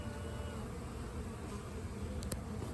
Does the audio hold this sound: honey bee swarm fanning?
yes